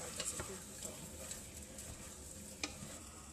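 Chicken and liver fry in a pan with a soft, steady sizzle, broken by a few sharp crackles and pops and light stirring clinks at low level.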